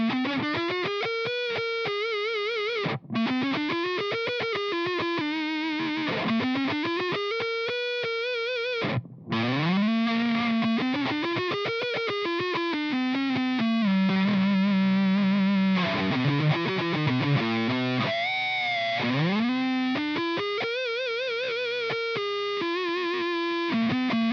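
A thick, distorted electric guitar on the neck pickup, played through a Joyo Chopper Z used as a boost pedal, plays sweeping, bending phrases with sustained notes, loud and saturated, pausing briefly twice, no talking.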